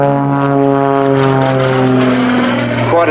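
A vintage propeller aeroplane performs at an Old Warden flying day air display, its engine a loud, close, steady droning buzz with strong harmonic tones that shift slightly in pitch as it passes.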